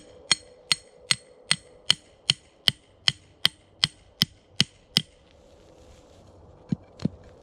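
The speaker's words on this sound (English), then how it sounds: "Here's my hammer, my fist guard axe. Little punch hole there." Sharp metallic strikes of a hammer-poll axe punching a hole, in a steady rhythm, about a dozen evenly spaced blows, then a pause and two final hits, close and crisp.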